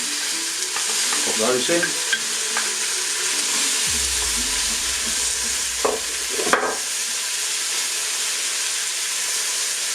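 Frozen peas tumble into a hot Tefal pressure cooker holding carrots for a winter vegetable soup, setting off a loud, continuous sizzle with stirring clatter. A short remark is spoken over it.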